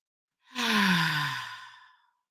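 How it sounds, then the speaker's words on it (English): One long, deep breath let out as an audible sigh, close and fairly loud, rising quickly and then fading over about a second and a half. "Let's take a deep breath."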